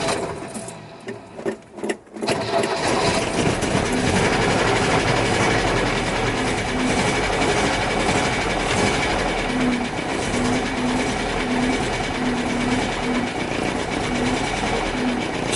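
A noisy car without a choke cranks for about two seconds, then catches and settles into a loud, steady idle with a faint rhythmic ticking, running alone with no voices.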